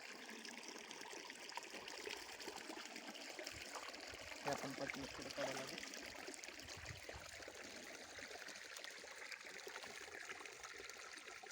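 Irrigation water runs steadily through channels in a field of sesame crops, a continuous trickling, streaming wash heard close, with someone speaking over it.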